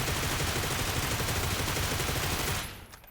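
A Groza 7.62 assault rifle fires a dense, loud, continuous full-auto burst in a shooter video game, lasting about two and a half seconds before cutting off into a brief fading tail.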